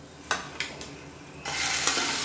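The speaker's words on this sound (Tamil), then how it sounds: "இப்போ இதை எடுத்து அப்படியே இதில் கொட்டிடலாம்." Hot tempering of mustard seeds, cumin, curry leaves, dried red chillies and onion poured into a black-eyed pea lentil curry, giving a few sharp clinks and then a sudden steady frying sizzle, close and without speech.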